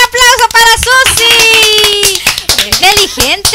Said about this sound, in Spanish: ¡Un aplauso para Susi!